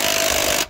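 Power drill running steadily for under a second as it tightens an engine mount bolt on a 2005 Dodge Grand Caravan 3.8, a loud continuous whir that cuts off abruptly, no talking.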